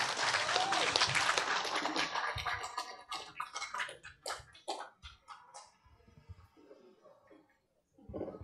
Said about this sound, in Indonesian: kita beri aplaus yang meriah kepada Ibu Novia